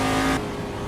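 A race car engine in the Assetto Corsa driving game at Goodwood roars loudly under throttle for a brief burst, its high revving tone cutting off sharply partway through.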